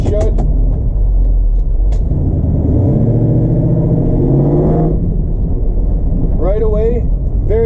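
A 1970 Chevrolet Nova's engine runs loud and close with a steady rumble, its pitch rising and falling through a rev, and brief sharp noises near the start and end.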